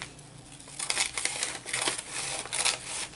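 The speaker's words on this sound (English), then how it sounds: "So I'm just going to cut" Scissors snipping through paper scraps for an art journal, with several close, crisp cuts and a crinkle of paper in a quick, uneven rhythm, with no talk.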